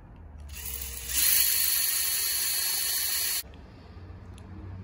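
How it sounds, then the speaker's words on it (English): An electric drill spins a pencil sharpener, a high-pitched whine that revs up, holds loud and close for about two seconds, then stops abruptly, with no talking. "Just shove it in the drill."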